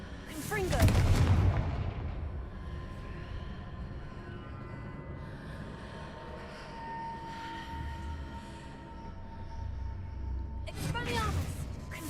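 Confringo blasting spell in Hogwarts Legacy, a heavy explosive boom at the start followed by a rumbling ambient drone and a second burst of impacts near the end.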